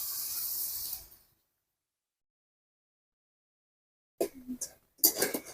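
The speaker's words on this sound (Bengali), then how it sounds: "কড়াইতে তেল দিয়ে দেব, এবারে বড়াগুলো ভেজে নেব।" Chana dal fritters dropped into hot oil in a wok give a loud, steady hiss for about a second, then fall silent before a few short clattering noises near the end.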